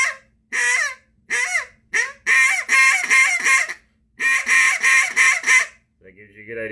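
A Duck Lander duck call is blown in short runs of sharp, honking notes: a Cajun squeal and then quacks. The runs are loud and close, with brief pauses between groups, and a softer lower sound closes it out.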